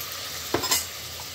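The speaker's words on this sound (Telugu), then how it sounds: "యాడ్ చేసి ఇది కూడా బాగా కలిసేటట్టు కలుపుకోవాలి" A spoon stirs turmeric and salt into sizzling mutton curry cooked Renati style, giving a quick scrape and swish over a faint, steady sizzle.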